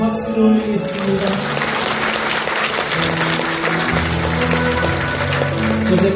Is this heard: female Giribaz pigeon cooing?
no